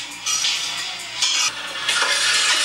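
Sautéed onions and peppers are tipped from a container into a pan, giving a few bursts of scraping and sizzling hiss with light utensil clatter, close and fairly loud.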